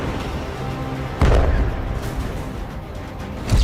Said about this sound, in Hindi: ये देखिए जोरदार हमला फिर से।